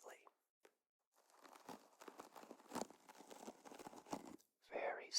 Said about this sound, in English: Very soothing, rustling sounds.